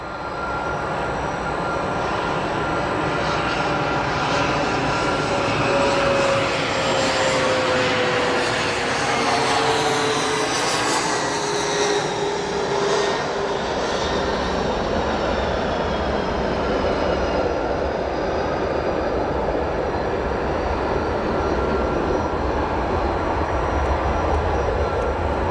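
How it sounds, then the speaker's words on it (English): Airliners arriving at O'Hare Airport, including a United Airlines flight from Milan and a LOT Polish Airlines flight from Warsaw, make a steady, loud jet roar that swells and fades across the whole stretch, with no voices. "United Airlines Flight 415 from Milan, Italy, followed by LOT Polish Airlines Flight 3 from Warsaw."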